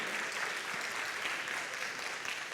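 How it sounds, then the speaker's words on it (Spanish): A church congregation claps during a pastoral appreciation service, a continuous, even roar of applause heard from a distance and fairly soft. "Si le van a dar ese aplauso, déselo fuerte, fuerte, porque ellos se lo merecen."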